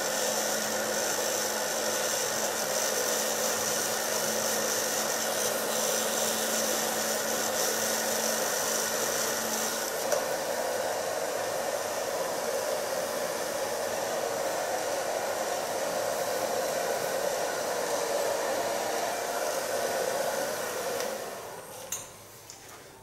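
A hair dryer blows with a steady, loud whirring hum close by, then switches off near the end.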